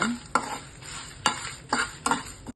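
Black pepper and coriander seeds dry roasted in a pan without oil, with a few sharp scraping strokes of a spoon against the pan over a quiet, faintly crackling background.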